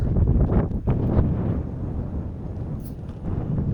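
Strong typhoon wind on hilltops buffets the microphone in low, rumbling gusts that surge and ease, loud and close, with no clear voices.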